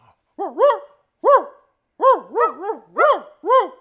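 A man imitates a dog barking, a run of six loud, harmonic woof-like calls in uneven bursts, close to the listener with gaps between them.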